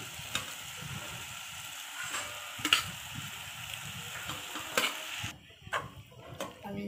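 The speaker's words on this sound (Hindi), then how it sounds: "फिर मैक्रोनी डालकर मिक्स करेंगे।" Macaroni being stirred and sizzling softly in a pan with masala and coriander, a low frying hiss under scattered scraping and clicking taps of the spoon.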